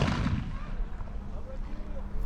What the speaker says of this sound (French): le tireur ferme la culasse et fait feu